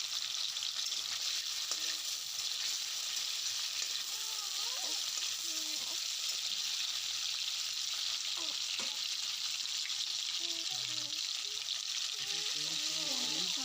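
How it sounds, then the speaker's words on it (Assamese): Paneer pieces fry in hot oil with a constant, even sizzle that stays steady from start to finish, while a faint voice murmurs underneath. "তেলখিনি গৰম হোৱাত ইয়াত মই পনীৰখিনি ভাজি লৈছোঁ।"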